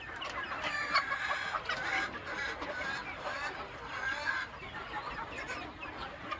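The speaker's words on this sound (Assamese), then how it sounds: "এইটো মোৰ এটা ঘৰৰ মুৰ্গী" Domestic chickens in a backyard coop cluck and chatter continuously, several birds overlapping at close range in a busy, steady flock murmur.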